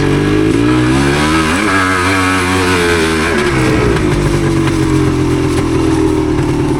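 A 1977 Yamaha DT250 two-stroke dirt bike engine revs loud and close, its buzzing note rising and falling through the power band over a constant rough drone, with no voices.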